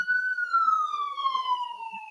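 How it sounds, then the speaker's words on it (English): A police-type siren wails in the background, one long tone slowly falling in pitch, fairly distant and alone with no speech over it. "Excuse the sirens in the background."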